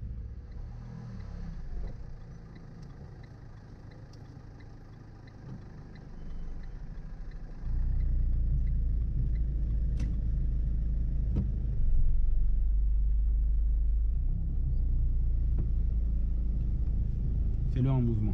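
A car pulling into a parking space during a driving lesson in town, its engine rumble low and steady and growing louder midway, with an instructor talking over it.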